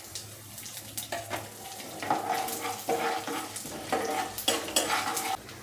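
Dried red chillies drop into hot oil with cashews already frying in a pan, giving a bright crackling sizzle. A few stirring scrapes and clatters come and go over the steady frying hiss.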